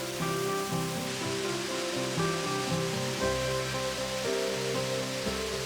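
A waterfall in Nakhon Nayok during the rainy season gives a steady rushing wash of falling water, with music playing over it throughout.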